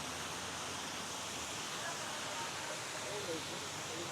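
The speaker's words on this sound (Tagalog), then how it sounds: "Ganda ng mini falls dito." Mini waterfalls at a forgotten resort in Antipolo, a steady broadband rush of falling water, continuous and fairly even throughout, heard from nearby with no clear voices over it.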